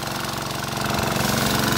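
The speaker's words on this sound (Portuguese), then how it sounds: "Não tem vento para navegar, por isso que a gente tá indo aqui no motor, o motorzão do meu irmão aqui." Inboard motor of a small fishing boat pushing along at sea in calm, windless conditions chugs loudly and steadily with a rhythmic throb, close and unbroken, with no talk over it.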